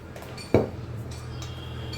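A single sharp metallic clank of a three-litre triply kadhai pan being set down or handled, followed by a low steady hum in a quiet room.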